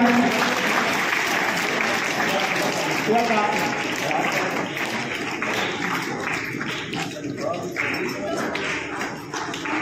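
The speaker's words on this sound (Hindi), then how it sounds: "ये तालियों की आवाज में रुक रही है" Sustained audience applause at a school CBSE result ceremony, dense and loud clapping from a large crowd filling the whole stretch without pause, with faint voices mixed in.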